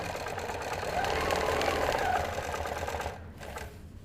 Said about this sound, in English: I'm just going to stitch in the ditch until I get the edge of my foot to line up with my previous stitches.